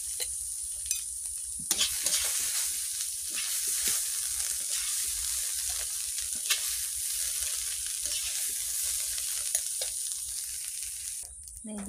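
Green chilies stir-fried in a pan, a bright constant sizzle close by with scattered scrapes and taps of a spatula as they are turned, no talking.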